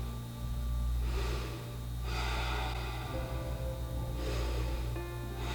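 Deep, slow breaths are taken while holding a deep yoga squat, several audible breath cycles rising and falling in a steady rhythm over low background hum, close and soft.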